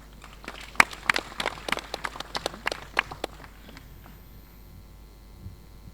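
Audience at a military generals' dinner clapping for a speaker, a short scattered round of claps that peaks early and fades out within a few seconds over a faint room hum.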